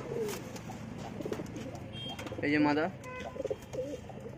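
Pigeons kept for sale coo in soft, repeated low bursts, with one fuller call rising clearly near the middle, while someone talks close by over the birds.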